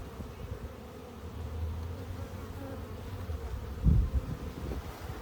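Honeybees hum in a dense, continuous drone around an opened hive during a summer inspection, close and steady, with a brief louder bump partway through.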